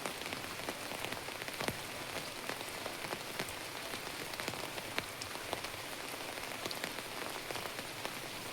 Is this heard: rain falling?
yes